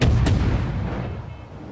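A Fubuki destroyer fires its guns in World of Warships, one sharp blast followed by a second, then a booming rumble that decays away.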